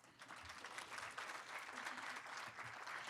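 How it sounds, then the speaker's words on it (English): An audience at a medical school honors convocation claps steadily, a moderately distant, even wash of applause lasting a few seconds with no voices over it. "Round of applause, please."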